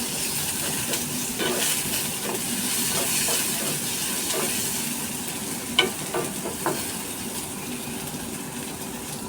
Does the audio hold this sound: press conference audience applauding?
no